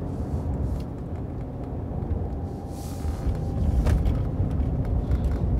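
A Mercedes GLC 63 S AMG V8 drives in fourth gear in sport mode, a close, steady deep engine and road rumble that swells louder in the second half, with no talking.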